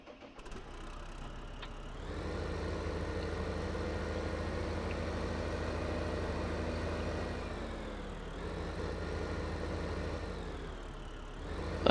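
A tractor in Farming Simulator 2015 idles with a steady, low mechanical hum. It holds at a quiet, even level for several seconds, dips briefly and then settles again, with no talking.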